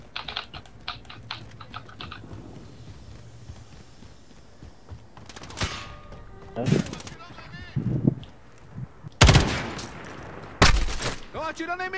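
Gunfire from an M13 rifle in a Call of Duty Modern Warfare multiplayer match: a few loud, sharp bursts near the end, with rapid keyboard clicking and a voice speaking underneath.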